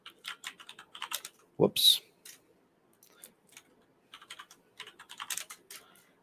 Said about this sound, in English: I'm just going to type Jupiter.